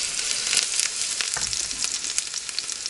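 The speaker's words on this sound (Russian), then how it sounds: "Все это дело так жарится" Pasta and canned stewed meat frying in a pan on a gas stove, a steady close, loud sizzle that crackles and spits throughout with a few soft stirring scrapes.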